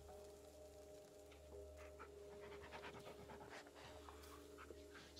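In the horror video game Blair Witch, a dog pants steadily and rapidly nearby for several seconds, soft rhythmic breaths over a low constant hum.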